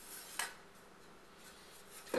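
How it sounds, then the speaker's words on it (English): A cleaver peeling fresh ginger in a home kitchen, with two brief, sharp scraping strikes of the blade against the root, one early and one at the end, separated by quiet. "You can peel this ginger with your cleaver, actually, like I'm doing here. Just slowly slicing little parts of it off"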